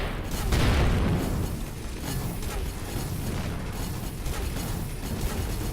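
Missile explosions rumble through a space battle in the game Avorion, a loud burst near the start giving way to continuous low booming and crackling blasts.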